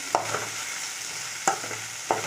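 Ivy gourd sautéing in a pan on the stove, a soft steady sizzle broken by three sharp scrapes or knocks of stirring, close and moderately loud with no voices.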